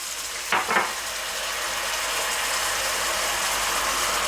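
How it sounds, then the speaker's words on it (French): Water hits a hot pan of nem kebab filling with a sharp splashing burst, then a steady, loud hiss of sizzling and steaming that carries on alone. "Ensuite, je viens y mettre donc mon demi-verre d'eau."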